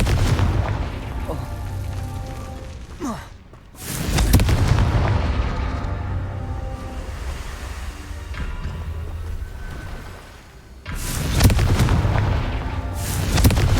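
Confringo blasting-spell explosions go off in Hogwarts Legacy, with repeated loud booming blasts and rumbling bursts in heavy, continuous layers of combat noise across the stretch.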